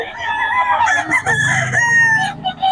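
A rooster crows loudly and close by in Bocaue, Philippines, one long drawn-out call with a rising and falling tone, with clucking fowl around it.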